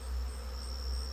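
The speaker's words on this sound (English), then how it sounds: "These bees are probably super happy in there, really working at cleaning them out and getting that honey" Honeybees cleaning out extracted honey supers set on top of a hive make a continuous, close, even buzzing hum with a thin high tone running through it, and no one speaks.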